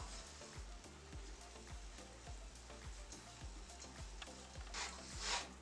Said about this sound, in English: I'm going to cook the coconut kind of dry.